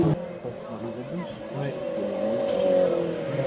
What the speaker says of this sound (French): Et la GT Turbo là au freinage